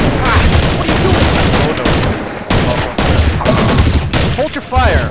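Rapid gunfire from Counter-Strike 1.6 on the de_aztec map, loud bursts of automatic shots and overlapping rifle fire in sustained volleys, with brief gaps and a voice heard among the shooting.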